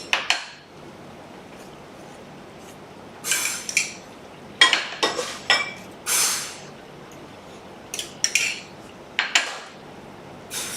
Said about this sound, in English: Apply some chipotle mayo.